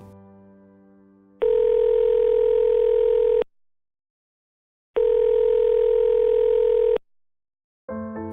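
Telephone dial tone heard as two steady, loud buzzing tones of about two seconds each, separated by silence, like ringback while a call to a childcare provider connects.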